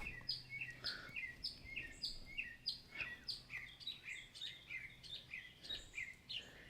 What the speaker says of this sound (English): the birds are out here today.